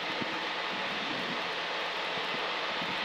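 A small aircraft engine at full power during takeoff on a cross-country flight: a loud, steady, even roar that holds for the whole moment with no voices over it.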